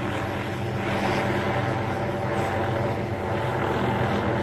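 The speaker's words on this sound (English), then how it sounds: "Especially don't like police spending money to hunt folks with a helicopter." A police helicopter circling low overhead above a neighborhood, its steady rotor drone a continuous low mechanical throb with faint rise and fall, no voices present.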